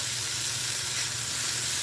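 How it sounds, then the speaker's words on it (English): Wet chicken breast that came out of liquid sizzles steadily in a hot pan, a close, even frying hiss with no breaks and no talking. "That sizzling is because it's wet meat."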